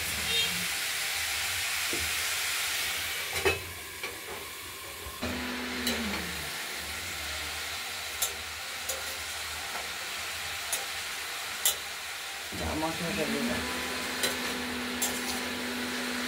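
Shredded cabbage coated in a ground paste of ginger, green chilli and cumin sizzles and crackles in a hot pan, broken by sharp scrapes and clinks of a spatula stirring it, with a steady frying hiss underneath.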